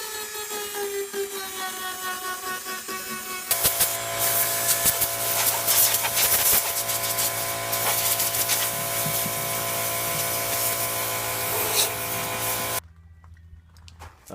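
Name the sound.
sanding the edges of a Jeep amp rack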